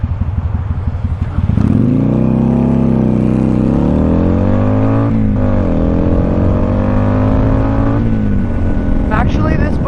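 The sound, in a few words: Kawasaki Vulcan cruiser motorcycle riding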